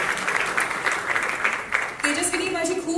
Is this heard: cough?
no